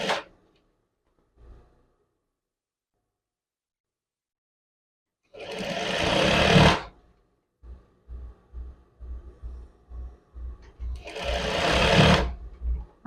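Sewing machine sewing the hem seam of a men's chef's jacket, two loud close runs separated by silence and a series of short, rhythmic stop-start stitching bursts.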